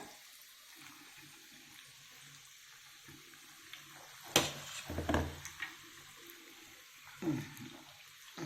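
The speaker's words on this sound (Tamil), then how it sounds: "சில்லி பவுடரில் தண்ணி ஊற்றிக்கலாம். தண்ணி ஊற்றி மிக்ஸ் பண்ணிக்கலாங்க." Water poured into chilli powder batter for chilli bajji and mixed in a home kitchen: faint trickling and splashing bursts with soft stirring in between, quiet and close.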